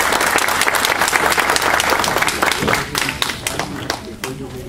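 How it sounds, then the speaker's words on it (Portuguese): Audience applause at a Brazilian ufology lecture, steady dense clapping from a crowd that holds strong for several seconds and then thins and tapers, with a few voices starting to speak near the end. "uma salva de palmas, por favor, para o Roberto Sampetro"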